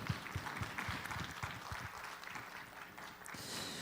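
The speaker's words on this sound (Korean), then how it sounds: "지금까지 우리와 함께 하시고 앞으로도 함께 하실 그 주님께 감사와 영광의 박수 올려드리겠습니다" A church congregation at a Sunday service applauds in praise, a fairly faint, room-filling patter of many hands clapping steadily throughout, with some low thumps beneath.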